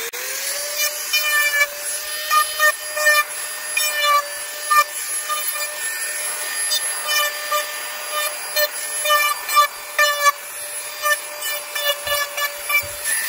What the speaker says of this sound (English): I'm actually going to bevel the inside edge and then bevel the outside edge